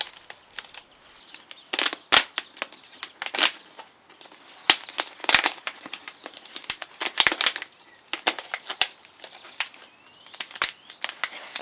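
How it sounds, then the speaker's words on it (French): Adhesive tape pulled and pressed onto a thin plastic bottle closed over seedling soil, giving close, irregular crinkling and sharp tearing crackles in quick bursts throughout, with no talk. "On ferme la bouteille, on met du scotch."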